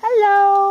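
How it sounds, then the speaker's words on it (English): A single short meow from a cat, clear and close, with a slight rising then level tone. "That's a cat."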